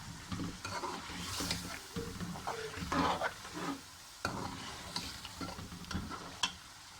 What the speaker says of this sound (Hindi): ये आलू की मैंने अच्छी सी भुनाई की है